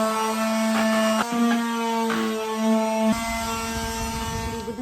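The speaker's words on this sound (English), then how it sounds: "And I'm going to sand it down." Power sander on a wooden wine rack, a steady high buzzing whine with a few brief catches and shifts as the tool moves across the wood, close and alone.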